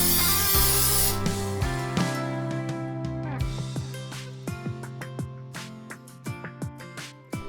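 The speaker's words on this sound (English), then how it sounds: "so I'm gonna spray it first with some olive oil." A short burst of olive oil cooking spray hisses close by into a baking dish, followed by light clinks and clattering.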